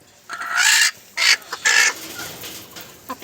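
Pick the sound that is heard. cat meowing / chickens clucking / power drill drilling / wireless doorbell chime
chickens clucking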